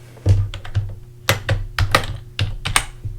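Clusters of keystrokes on a computer keyboard, close and clear, in quick uneven bursts with short pauses between them, over a low steady hum.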